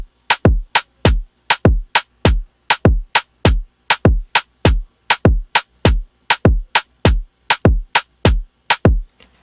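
Afrobeats drum pattern programmed in Studio One's pattern mode, a steady loop of punchy, evenly spaced kick and percussion hits with sharp attacks and quick decays, loud and alone with no talking.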